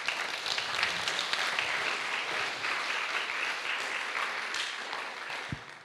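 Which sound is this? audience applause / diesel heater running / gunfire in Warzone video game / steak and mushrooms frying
audience applause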